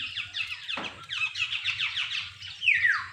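Birds at a mountain lake call and chirp in quick, bright, overlapping trills and squawks, fairly close and clear, with a low steady hum beneath and no talk.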